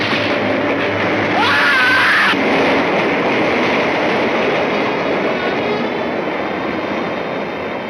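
A subway train rumbles past in a 1942 radio crime drama, a loud, steady rolling roar that fills the whole stretch, with a brief high squeal of wheels near the start and no voices over it.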